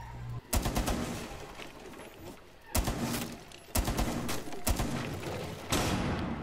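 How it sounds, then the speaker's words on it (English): Rainbow Six Siege gunfire comes from several shooters in about five loud bursts of rapid automatic fire, separated by short lulls with quieter in-game sounds and some talk. "there's like five guys shooting at me"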